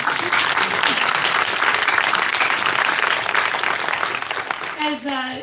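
Sustained audience applause at a Florida State University graduate hooding ceremony, broad and dense throughout, with a speaker's voice coming in over the fading clapping at the end.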